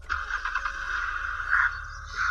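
Car engine cranking and catching in the survival video game Unturned, a steady mid-pitched synthetic motor tone with a brief squeal near the end, heard alone at moderate level.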